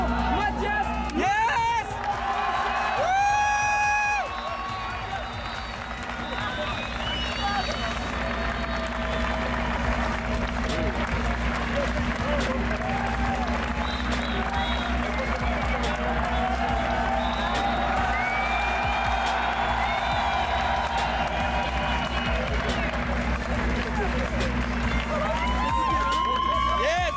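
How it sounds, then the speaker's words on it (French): A crowd applauds and cheers for the second-place podium finisher at a French drift championship round, clapping and whoops mixed with voices over a continuous low hum, with occasional shouts rising above. "Un tonnerre d'applaudissements pour le second, Mathias."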